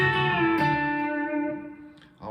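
A B-bender electric guitar plays a lick in D, bright sustained notes with a pitch bend rising on the first note and holding, then a fresh attack near the end, heard clearly and alone.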